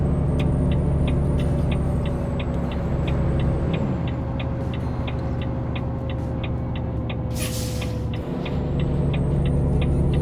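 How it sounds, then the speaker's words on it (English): Volvo VNL 670 sleeper truck in American Truck Simulator idling with a steady diesel rumble and rapid ticking of the turn signal, broken by a sharp hissing release of the air brakes near the end. "I do like the air brake sounds on this truck."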